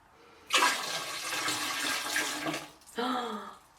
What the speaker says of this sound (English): Are you ready for this water dump?